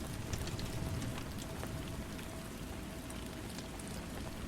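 Rain falls steadily and evenly, making a continuous soft hiss and patter with no talk and no breaks.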